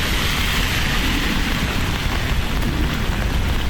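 Steady rain falls on a Manila street, a dense, even hiss that holds at a constant loudness throughout with no voices.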